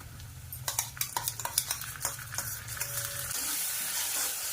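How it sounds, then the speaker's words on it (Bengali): Onions and ginger paste frying in a pan sizzle beneath a run of sharp, rhythmic spatula scrapes and clinks for a few seconds. The stirring stops and the pan settles into a smoother, even hiss. "দিয়ে ভালো করে একটু নাড়াচাড়া করে নেব।"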